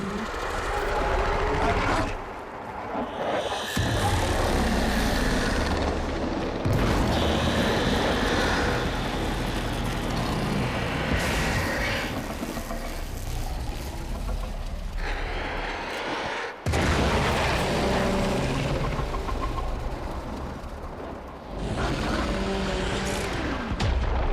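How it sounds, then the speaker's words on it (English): An explosion in the Warframe video game sets off a sustained, loud, roaring wash of blasts and rumbling debris. The dense noise continues for the whole stretch with a few brief dips. "There should be useful detritus falling from the explosion."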